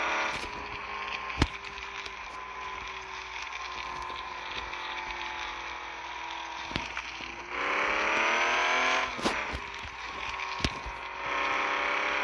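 A Chevy truck engine in the off-road mudding game Offroad Outlaws drones steadily, then climbs into a louder, higher rev partway through before settling back into a sustained roar.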